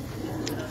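Domestic pigeons give a soft, low cooing close by, one short throaty phrase over a faint hum of background noise.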